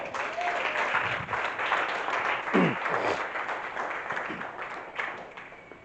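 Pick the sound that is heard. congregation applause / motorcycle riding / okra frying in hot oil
congregation applause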